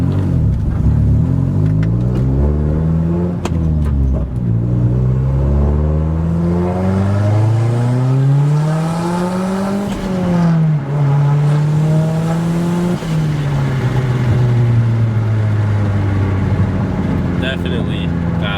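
A car fitted with a big turbo swap, running about 17 psi of boost, revs repeatedly, its engine note climbing and falling in several loud, close pulls that sweep up and down in pitch; no talking.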